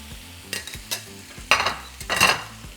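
Half an onion and three minced garlic cloves fry in a pan for Mexican deviled shrimp, with close bursts of spatula stirring and sizzling spaced out over a soft background.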